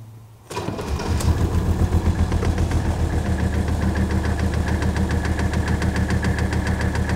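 Car engine with suspected faulty fuel injectors cranks and catches, then idles loudly and roughly with a steady pulsing, uneven knock that continues close by without any talk.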